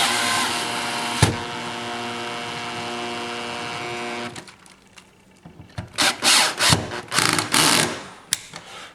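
A power drill drives screws into a new electrical outlet at a lowered torque setting, whirring steadily for about four seconds, then a quiet pause and several short, sharp bursts of clicking and clatter as the screws seat.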